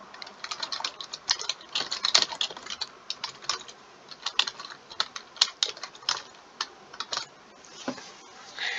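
Rapid, uneven computer keyboard typing up close, bursts of crisp key clicks with short pauses and a few louder strikes, no voices.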